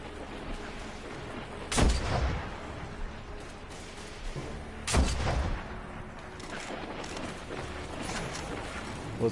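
Two loud, sharp cracks from the Black Spindle exotic sniper rifle firing incendiary rounds in the video game Destiny, spaced a few seconds apart over faint ambient game noise.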